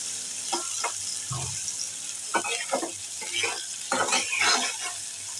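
Chopped onion fries in a pan under a steady hiss of sizzling oil, broken by intermittent stirring scrapes and soft utensil knocks nearby, with no talking.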